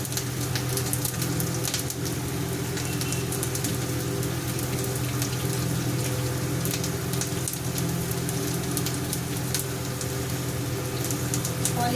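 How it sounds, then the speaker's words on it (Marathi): Water drained from cooked rice pours and splashes steadily out of a pot, a continuous hissing rush heard up close with no pause. "भाताचं पाणी काढून घेते"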